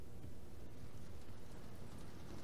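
Steady rain in a video game hisses throughout with a soft low rumble beneath, continuous and even, without talking.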